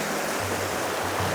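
A small stream flows with steady, close broadband rushing and gurgling, with no voices.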